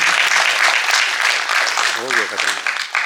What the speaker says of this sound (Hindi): तालियां बजा दीजिए किरण लता जी के लिए।